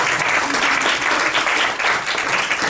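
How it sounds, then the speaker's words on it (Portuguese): Applause from an audience at a talk in Lisbon, dense steady clapping from a sizeable crowd, loud and continuous for the whole stretch with no speech over it. "Eu peço uma salva de palmas para o Daniel."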